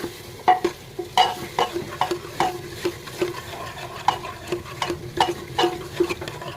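Bottle gourd and milk curry being stirred in a pan, with a steady rhythmic series of spoon scrapes against the metal over a soft sizzle, close and fairly loud.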